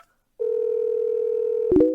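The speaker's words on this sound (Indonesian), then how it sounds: "Aku akan telepon Wakil Presdir Chen." A telephone dial tone sounds while a call is placed, a steady continuous tone starting after a brief silence and then cut by a short burst of dialing tones near the end.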